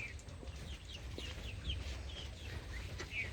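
Chickens cluck at a village house beside a river, giving several short, soft clucks spread over a low background rumble, faint and at some distance.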